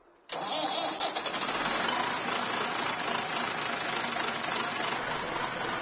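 A large farm tractor's diesel engine cranks and catches after a brief silence, then settles into a loud, steady rumbling idle with a slightly knocking texture.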